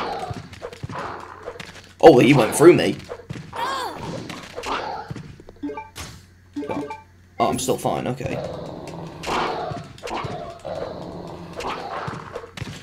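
Zombie dogs attacking in Resident Evil Code: Veronica X, with a loud thudding impact near the start followed by scattered thumps, growls and game effects, all under an excited player talking throughout.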